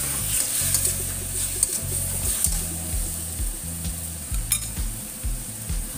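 Beef meatballs go into a pan of sweet-sour spicy shrimp with vegetables and tomato, giving a steady hissing sizzle throughout, alongside occasional utensil clinks and a low rhythmic backing tune.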